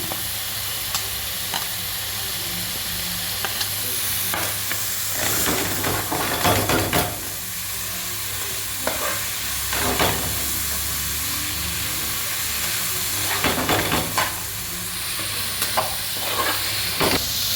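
Tomatoes, cashews and garlic frying in a pan for butter chicken: a steady close sizzle and hiss, broken by louder bursts of stirring and scraping.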